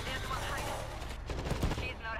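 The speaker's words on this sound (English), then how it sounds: "That assault shotgun's really, really good." Assault shotgun fire and other gunfire in the zombie shooter World War Z, a burst of rapid overlapping shots with game noise under it.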